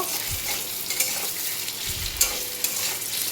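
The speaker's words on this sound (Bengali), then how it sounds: "এখানে আলু ভাজা হয়ে যাচ্ছে।" Potatoes fry in a pan with a steady sizzle and crackle, punctuated by occasional stirring scrapes and light clinks, with no one talking.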